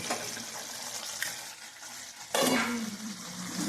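Chicken and potato curry bubbles and sizzles in a pan while being stirred, a steady close frying hiss with soft scraping, growing louder and brighter after a sudden burst partway through; no one speaks.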